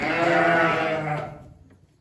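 A bottle-fed lamb lets out a single loud, close bleat that wavers and then fades away over about two seconds, with no talk.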